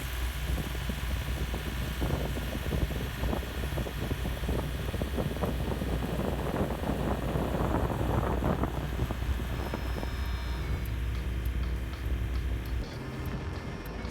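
A boat's engine runs steadily on a bright day at the westerly end of the Solent, a low constant drone mixed with wind buffeting the microphone and water rushing past, with no voices.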